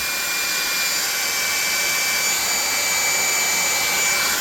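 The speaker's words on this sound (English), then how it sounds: "We're going to hit it with the hair dryer again." A hair dryer blows with a constant whooshing roar and a faint high whine, steady and close for a few seconds.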